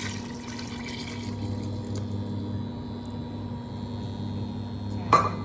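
Boiled water poured into a soup pot of stir-fried meat and carrots for a Khmer cabbage soup, a steady low hissing pour running evenly throughout, with a brief clink near the end.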